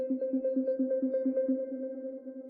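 A second synth arpeggio preset in FL Studio for electro house, softer and hollower, with a quick regular pluck pattern repeating at a steady rhythm, clear and alone, cut off by a short noisy click.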